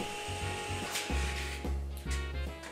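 A table saw blade cuts a board on a zero-clearance crosscut sled with a loud, steady whine. Low rumbles rise and fall as the wood is pushed through.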